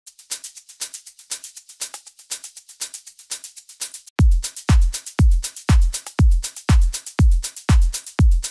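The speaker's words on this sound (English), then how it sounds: "So all together the hi-hats are going to sound something like this." Layered hi-hats from a melodic house track, first a crisp busy ticking pattern alone, then joined by a deep pounding four-on-the-floor kick with the hats riding steadily on top, loud and close.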